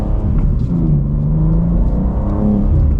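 A 2025 BMW M2 pulling away under acceleration, its engine giving a loud, steady rising drone with a deep rumble, heard from close by.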